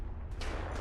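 Booming artillery explosions in the video game Fallout 4, two heavy rumbling blasts in quick succession, loud and close with no talk.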